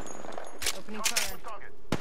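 Gunfire in the Apex Legends video game: several sharp, close bursts of shots in quick succession over a busy game soundscape.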